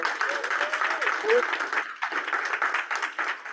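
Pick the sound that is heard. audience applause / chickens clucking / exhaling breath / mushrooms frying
audience applause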